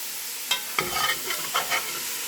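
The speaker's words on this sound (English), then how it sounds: "So I'm going to stir this in. I have a metal spatula for this one." A metal spatula scrapes and stirs brown bits in a pan of sausage, potato and kale soup over a steady sizzle, with a few short scraping strokes.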